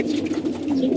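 Several pigeons coo steadily in a loft of racing pigeons, a continuous overlapping low murmur of throaty calls close by, with no voices.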